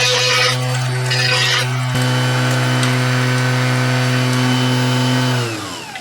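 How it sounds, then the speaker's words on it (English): A Dremel rotary tool fitted with a slotting router bit cuts into wood, a loud, steady high-pitched motor whine with grinding and rasping from the cut, winding down at the end. "here's a slotting bit. You can put slots in wood."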